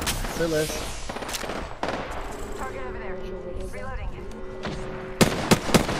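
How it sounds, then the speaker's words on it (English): Gunfire in the video game Apex Legends, with sharp bursts of shots including a cluster of loud cracks near the end, mixed with game effects and heard under excited voices talking. "Oh, he's getting shot from another team."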